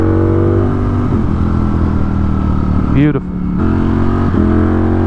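Ducati Panigale or Streetfighter V4S motorcycle engine droning loudly at steady high revs, with a brief dip and gear-change blip around the middle, close to the rider with wind noise; a single spoken word is briefly heard.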